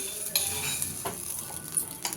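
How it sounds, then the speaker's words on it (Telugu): Tempering with curry leaves and a little chilli flakes sizzles in a pan for coconut chutney, a steady close hiss with a few brief clinks of a spoon against metal. "తాలింపు వేసేసాను"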